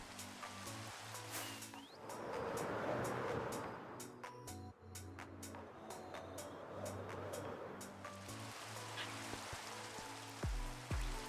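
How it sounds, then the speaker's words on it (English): Rain in the video game Minecraft falls as a soft, steady patter with scattered drop ticks, quiet and continuous, alongside a looping tonal game background and a brief rushing surge early on. "And it's raining! Of course it's raining!"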